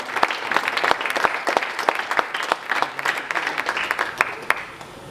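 Dense, sustained applause from an audience at a conference opening ceremony, many hands clapping steadily and fairly loud throughout, with no voices over it.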